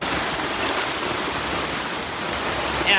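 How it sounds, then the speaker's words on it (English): Heavy rain pours down steadily during an evening thunderstorm outdoors, a dense, continuous hiss of water hitting surfaces at an even level throughout, with no voices. "it is pouring out here now"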